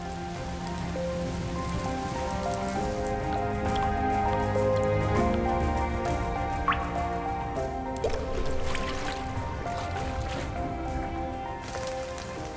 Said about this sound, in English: The abundant rainfall saturates every corner, ushering in a new chapter in the rainforest.